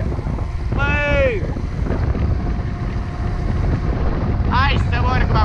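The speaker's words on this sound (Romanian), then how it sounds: "Bate un vânt să mor!" Strong wind buffets the microphone of a rider cycling outdoors, a steady loud rumbling roar throughout, with brief voiced sounds cutting in near the start and end.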